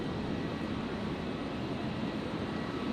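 A Qantas Boeing 737 departing Brisbane for Sydney gives a steady, distant jet-engine roar, faint and broadband, holding even without any voices over it.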